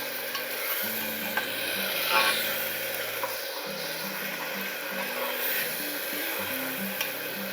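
Ginger garlic paste fries in a pan, three teaspoons of it, cooked until reddish for a mutton curry with a steady soft sizzle and intermittent stirring scrapes throughout, with a low hum underneath.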